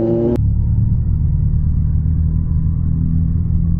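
Steady road traffic rumble heard from a Kawasaki Z900 ride toward Haldwani, with continuous low engine and tyre noise from nearby cars filling the whole stretch after a brief opening tone, loud and unbroken with no talk.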